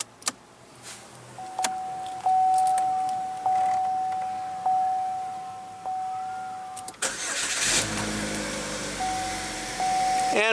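A 2015 GMC Terrain with a 2.4 liter 4-cylinder: a steady chime repeats while a starter cranks, then the engine fires and settles into a close, even idle.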